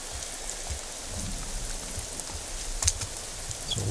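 Steady rain falls in the stealth video game Thief, a dense, even hiss of drops pattering on surfaces throughout, with one brief brighter splash near the end and no voices.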